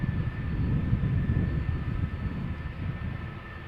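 A Cessna 680A Citation Latitude business jet departing Amsterdam Schiphol gives off a steady engine rumble with a thin high whine, holding fairly level before easing slightly toward the end.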